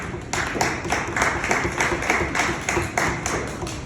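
Small audience applauding for author Paul Bolster at a book talk, a steady mass of overlapping hand claps with pulsing swells, fairly close and filling the whole stretch.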